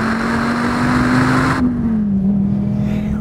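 An SRT Viper GTS sports car engine revs loud and close at a steady high pitch while driving fast, holding its drone throughout with a small dip and recovery near the end.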